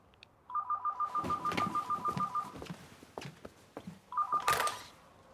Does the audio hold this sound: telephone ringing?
yes